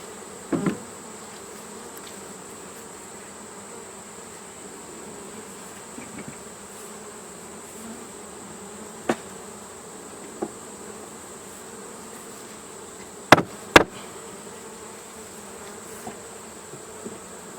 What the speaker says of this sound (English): I forgot I got bees over here.